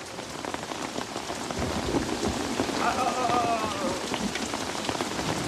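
Heavy rain pours onto straw-roofed houses, a dense, steady drumming hiss of drops with low rumbles underneath, building slightly louder partway through.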